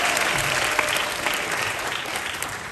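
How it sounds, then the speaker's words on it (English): An audience at a State of the Borough speech at Hunter College applauds steadily, a dense wash of clapping that fills the room with no break. "you can applaud for Councilmember Rita Joseph"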